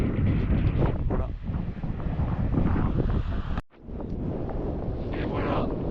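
Wind buffets the microphone at water level near Mont Saint-Michel, a steady blustery rumble with a brief dropout midway, as people talk over it.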